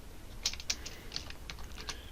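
Keys clatter on a computer keyboard in a quiet room, a run of separate sharp clicks at an uneven pace, a few louder strokes standing out among softer taps.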